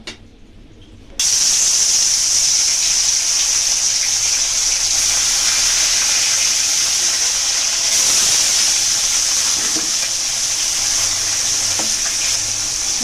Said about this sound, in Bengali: কড়াতে আমি তেল বসিয়ে দিয়েছি। এই মাছটা এবার আমি ভেজে নেব।